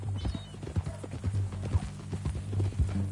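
A horse's hooves clip-clop in a steady, close walking rhythm in Red Dead Redemption 2, faint overall, with soft hoof strikes repeating evenly.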